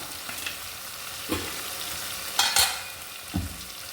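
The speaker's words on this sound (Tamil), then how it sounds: "இப்போது நம்ம மேரினேட் பண்ணி வச்ச சிக்கனை சேர்த்துக்கிடலாம்" Marinated chicken frying in a tomato masala, with oil separated from the cooked-down tomatoes, gives a low steady sizzle broken by a few louder scraping stirs close by.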